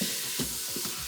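Food sizzles in a preheated Instant Pot with a bright steady hiss, while short scraping stirs break in a few times over about a second, close up and without voices.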